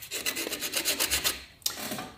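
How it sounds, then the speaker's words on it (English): Wooden rabbit carving being sanded, with rapid rhythmic rasping strokes, about a dozen quick back-and-forth rubs, a short pause, then more strokes, close and clear with no talk. "let's get sanding"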